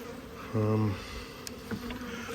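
Honey bees buzzing around an opened hive: one loud, close, droning buzz passes briefly, then fainter insect hum continues under low background noise.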